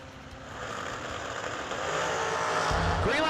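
A 2017 Racetech chassis dragster and a Cleveland-based dragster launch side by side at a drag race, engines building into a loud, steady roar that swells sharply near the end, with a rising whine over the top.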